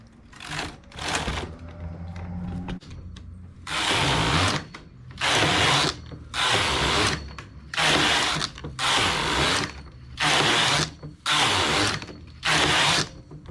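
A knitting machine works a tubular edge finish, its carriage sliding across in repeated loud rattling passes of about a second each, separated by short quieter pauses, with softer mechanical clicks at the start and no talking.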